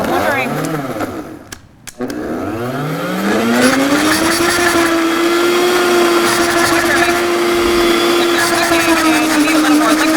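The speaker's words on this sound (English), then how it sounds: "we're just going to put the lid on it and let it blend" Kitchen blender puréeing root vegetables with olive oil, a loud motor whine that rises in pitch as it spins up and then holds a steady high drone, with people talking over it.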